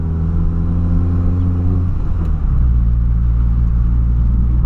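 A Ford Ka engine revs after a downshift into second gear, a close, steady low rumble that shifts pitch midway as the revs change.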